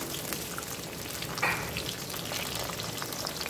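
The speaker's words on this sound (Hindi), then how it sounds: "फुल फ्लेम पे इसे हमें फ्राई करना है। देखिए भिंडी फ्राई हो चुकी है।" Okra fries in a kadhai over a full flame, giving a dense, steady sizzle up close with a brief stir partway through and no voices.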